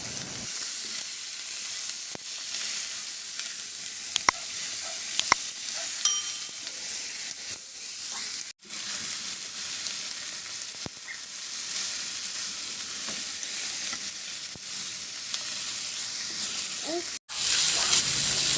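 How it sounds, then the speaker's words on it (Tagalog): Pieces of pork belly (liempo), one kilo cut into serving portions, frying in a pan with a steady loud sizzle and a few brief clinks and pauses, no voices. "At ilagay ko na yung 1 kilong pork limpo natin na hiniwa ko lang ng pa-serving cut."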